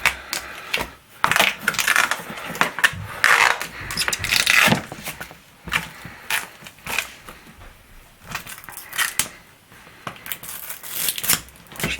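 Flexible plastic being torn and scraped away from an Original Xbox case, with irregular crackling, crunching bursts close up, some sharp clicks and brief pauses in between.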